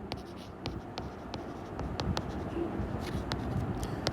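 Chalk or marker writing values on a board, a faint series of short scratchy strokes and taps at close range with no talking.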